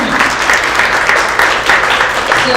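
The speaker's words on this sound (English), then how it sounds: "round of applause for Henry" Loud, close audience applause for a speaker named Henry at a legal and advocacy clinic session, a dense even burst of clapping with no talk over it.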